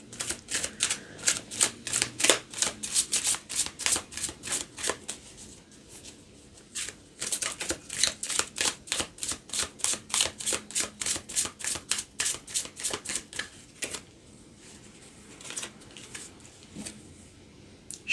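Tarot cards being shuffled and drawn close up, heard as quick repeated crisp flicks in bursts. Short pauses fall between the bursts, and there is no talk.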